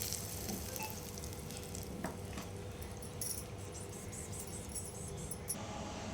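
Cumin seeds tempered in hot oil for a coconut chutney sizzle steadily and softly, a continuous frying hiss with faint clinks of utensils, close and unbroken for several seconds with no talking.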